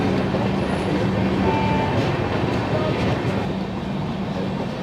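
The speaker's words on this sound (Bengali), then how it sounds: "এখন আমাদের ট্রেন হচ্ছে মুরাদাবাদ স্টেশনে ঢুকছে।" A passenger train on the Howrah to Haridwar Kumbha Express rolls into Moradabad station, heard from a coach just behind the engine as a loud, steady rumble of wheels on track.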